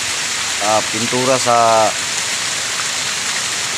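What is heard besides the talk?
heavy rain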